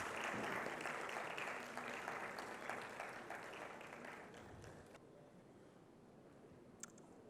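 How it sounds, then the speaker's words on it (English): An audience at an industry-academia technology dialogue applauds to welcome a speaker to the stage: a steady round of many hands clapping, fairly distant and soft, thinning and fading away over the last few seconds. "With a resounding round of applause, let us invite Mr. Ambrose."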